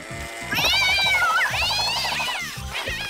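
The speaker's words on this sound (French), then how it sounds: "quel joli minou" A cartoon cat gives a drawn-out, wavering meow, with its pitch rising and falling over a light musical backing, close and clear.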